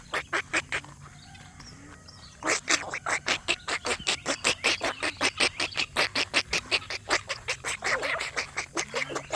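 Ducks on a free-range homestead quack in a loud, rapid, steady run of calls close by, joined by occasional honking from other fowl over a low background hum.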